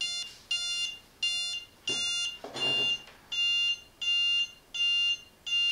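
A LoRa hub sounds a temperature alarm notification: a series of about eight evenly spaced, loud electronic beep bursts with brief gaps, alone and close.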